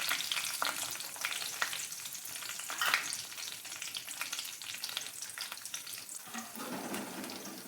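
Chopped onion frying in hot oil with curry leaves, a steady bright sizzle with faint stirring scrapes running throughout, close and continuous with no talking.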